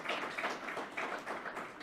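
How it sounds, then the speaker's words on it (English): Brief audience applause at a ministerial climate session, a soft, fairly distant patter of many hands clapping in waves for under two seconds. "Round of applause"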